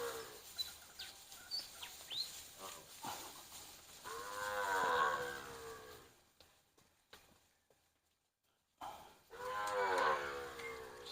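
Cows and calves offered for sale moo several times, with one long low bellow midway and another near the end. Faint bird chirps are audible in between.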